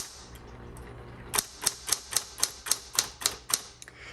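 A 1960s Coronet Automatic typewriter being typed on, about ten crisp, evenly spaced key strikes following a brief quiet stretch, close and clear with no talking.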